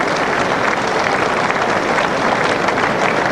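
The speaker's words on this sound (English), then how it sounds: "Tremendous applause now" A racecourse crowd at Sandown for the 1992 Whitbread Gold Cup Handicap Chase gives dense, sustained applause and cheering, loud and continuous like a roar of hands.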